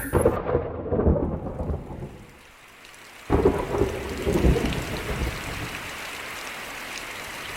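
Steady heavy rain with deep rumbling thunder, a brief lull, then a loud thunderclap and continued downpour.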